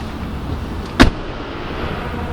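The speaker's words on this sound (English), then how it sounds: "Listen to this door thud." The door of an older Mazda BT-50 ute closes with a single short, solid thud midway through, set against a low background hum, with no voices.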